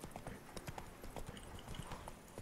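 Horse hooves clip-clop in The Witcher 3: Blood and Wine, set in Toussaint, a quiet, uneven run of hoof strikes at walking pace.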